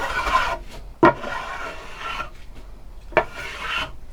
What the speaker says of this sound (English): when you get down to this level of planing, it's actually quite relaxing.